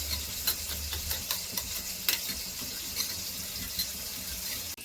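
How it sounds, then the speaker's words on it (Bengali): A spoon stirs vinegar into a pan of soy sauce for chili chicken, making faint scrapes and light clinks at irregular moments over a low, quiet sizzle. "দিয়ে দিচ্ছি ভিনিগার, সুন্দর করে চামচ দিয়ে মিশিয়ে নেব।"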